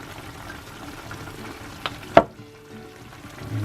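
Chicken adobo frying in a pan as it is stirred, a steady soft sizzle broken by a couple of sharp scraping clacks of the utensil near the end.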